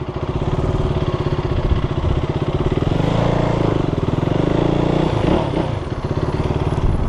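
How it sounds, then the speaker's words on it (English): A single-cylinder motorcycle exhaust thumps steadily and loudly up close, with a deep pulsing beat that swells briefly as the revs rise, then settles. "It's definitely a nice sounding exhaust, but it, you know, it's quite obviously a thumper."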